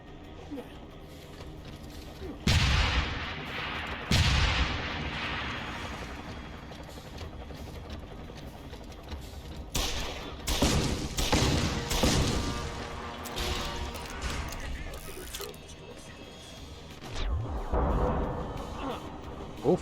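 Heavy blasts and bursts of gunfire erupt in the shooter game Deus Ex: a few loud, sharp impacts with lingering rumbling tails, scattered shots between them, over a continuous low game backdrop.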